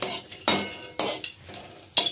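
Green chilies roasting in a little oil in a pan, stirred in regular scraping strokes about every half second over a soft sizzle, close and alone.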